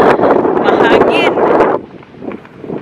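Strong wind buffets the microphone outdoors at a spring flower park in the Netherlands, giving about two seconds of heavy rumbling gusts before it eases, with a voice talking lightly over it.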